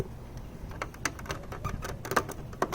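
Gull wing parts slide back onto a Bulgarian Omega 40 typewriter, heard as a close series of irregular small metallic clicks, taps and rattles, with a few sharper snaps near the end.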